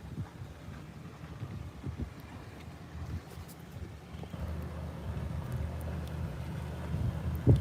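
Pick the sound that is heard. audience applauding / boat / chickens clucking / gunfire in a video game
boat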